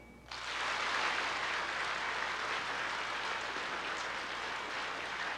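Sustained applause from a children's audience at a Ronald McDonald safety show, starting abruptly and continuing steadily, loud and dense throughout.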